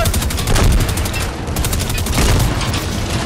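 Dense, continuous gunfire from an on-rails bus shooting video game. Rapid shots blend into a steady roar with a few heavier bursts, and faint voices sit underneath.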